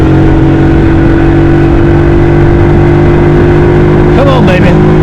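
A Honda Solo Custom motorcycle engine pulling in second gear on a ride through the countryside, a loud steady drone close to the rider with a brief higher whine near the end, under constant wind rush.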